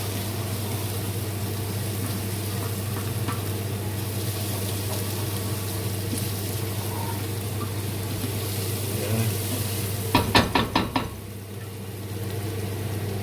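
Curry chicken ingredients sizzle and fry in a pan under a steady low hum, with a short burst of rhythmic scraping and clattering near the end as they are stirred.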